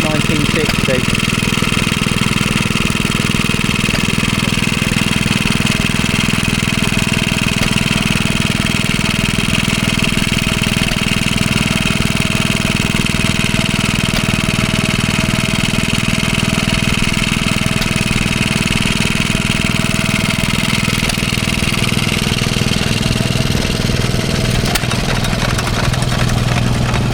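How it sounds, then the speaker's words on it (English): A 1960 BSA 30 volt 10 amp generator set runs steadily at an outdoor country show, its engine a loud, constant mid-pitched drone with people talking over it. "This is a BSA 30 volt 10 amp generator set"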